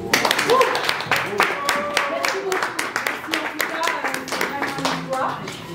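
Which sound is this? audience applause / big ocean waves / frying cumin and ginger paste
audience applause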